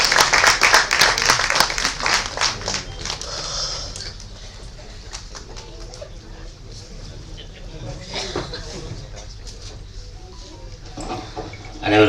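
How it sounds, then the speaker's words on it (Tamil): A crowd at the Sivasambo audio launch claps to welcome the comedian Imman Annachi; loud, crisp clapping fills the first few seconds, then thins into quieter scattered claps and room noise before a short burst at the end. "இமான் அண்ணாச்சி அவர்களை உங்கள் கைத்தட்டல்களுடன் வரவேற்கிறோம்."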